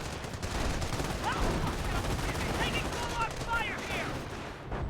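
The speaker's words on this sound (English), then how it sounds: "30 cal firing away." In a Company of Heroes battle, a .30 cal machine gun fires dense, continuous bursts under a busy wash of battlefield noise, with whistling sounds overhead.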